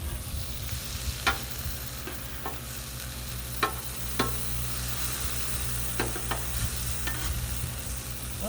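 Beef fried rice sizzling on a Blackstone griddle, a steady close hiss of frying with several sharp spatula taps and scrapes against the flat-top, no talking.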